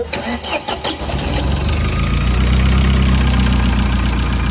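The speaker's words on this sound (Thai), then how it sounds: "เดี๋ยว สตาร์ทเครื่องดูก่อน" A Tata 2.2-litre diesel engine cranks with a few rapid starter pulses, then catches and settles into a loud, steady, slightly rough idle heard up close.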